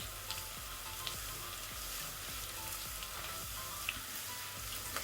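Spice mixture bhuna-roasting in a pan for Lahori mutton paya (trotters), giving a steady soft sizzle with faint scraping stir ticks, close and moderately quiet, with no voices.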